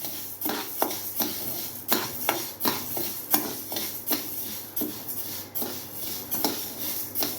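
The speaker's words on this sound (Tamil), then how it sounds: "ஸ்டவ் ஆன் பண்ணி இந்த கொள்ளு நல்லா வறுத்துக்கணும்" Horse gram dry-roasts in a pan and is stirred in a steady rhythm, each pass sending the dry seeds rattling and scraping across the metal, close and without voices.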